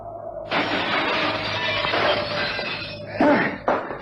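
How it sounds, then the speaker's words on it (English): Window glass shatters as a man crashes through it in a radio drama, a loud sustained smash with scattered tinkling fragments and a short second burst near the end, all under a low room hum. "I'm going to simply jump through the glass"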